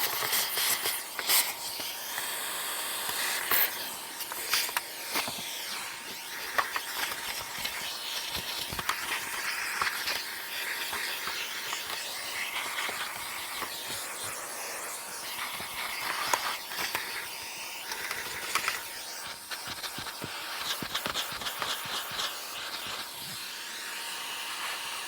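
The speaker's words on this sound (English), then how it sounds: "let me just give it a quick vac because it is full of carbon dust" Vacuum cleaner cleaning carbon dust out of a Miele appliance, a steady airy hiss running throughout, broken by frequent scraping and knocking clicks as the nozzle moves over the parts, close and continuous.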